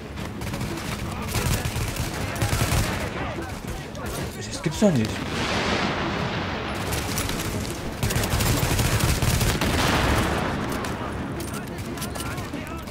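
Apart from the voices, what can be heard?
gunfire in the video game The Division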